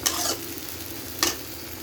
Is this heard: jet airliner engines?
no